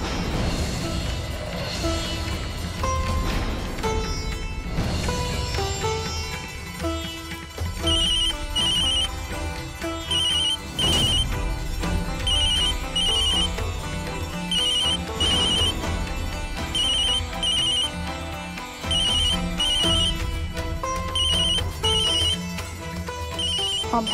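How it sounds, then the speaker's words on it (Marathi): A telephone ringtone plays repeatedly in steady bursts over background music, loud and continuous with no talk. "अभ्याचा फोन कसा उचलू?"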